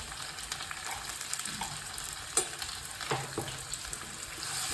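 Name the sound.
green chillies, asafoetida and salt frying in oil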